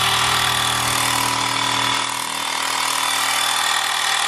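A small Xiaomi portable electric tyre inflator pump whirs loudly and steadily, a constant buzzing drone that dips briefly midway, then carries on.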